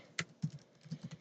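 An email address is typed on a computer keyboard, a quick run of soft, close key taps, about half a dozen in just over a second, alone and quiet.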